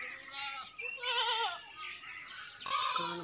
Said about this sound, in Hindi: ये जनाब दूसरे नंबर पे बकरा आ गया